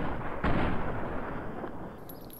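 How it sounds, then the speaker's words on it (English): A single heavy gunshot boom in Fallout New Vegas at Camp Searchlight, loud and close, followed by a rumbling decay and low ambient noise. "maybe I should just start taking some shots at that guy"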